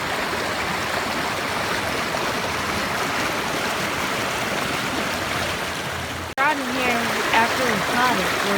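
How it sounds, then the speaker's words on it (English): Mountain water of Lytle Creek rushes steadily as a broadband wash, continuous and fairly close, with a voice speaking briefly over it near the end. "and that's that water running right there."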